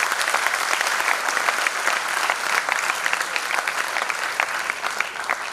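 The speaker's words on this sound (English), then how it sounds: "Ladies and gentlemen, please give a huge round of applause." Loud, sustained applause from an audience at a justice education inauguration as a guest is introduced, a dense continuous roar of many hands clapping at close range.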